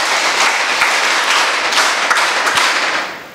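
Sustained applause from an audience at a Kannada storytelling and talk event, dense continuous clapping at steady loudness throughout, fading slightly at the very end.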